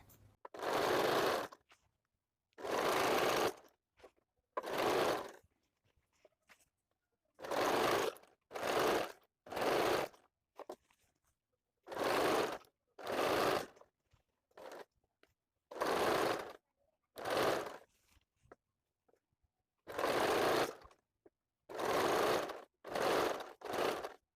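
A sewing machine stitches a bra-cut blouse in repeated short bursts, each run of whirring a second or so long, separated by quiet gaps, close and fairly soft.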